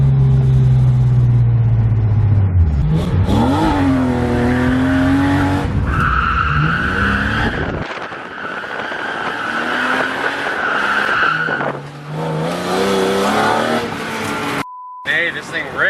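A BMW 318i fitted with E36 M3 camshafts accelerates at part throttle, its engine note climbing steadily and loud from inside the car, with tire squeal in places and people talking over it.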